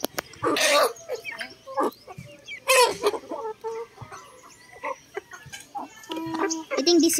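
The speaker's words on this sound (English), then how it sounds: "Yeah, that's a brave chicken there." A Jersey Giant chicken clucks in short, irregular bursts close by, with pauses between calls, while people talk quietly nearby.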